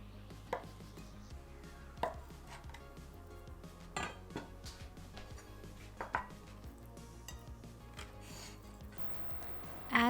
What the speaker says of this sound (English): Pat dry, then cut tofu into 2 to 3 centimeter cubes.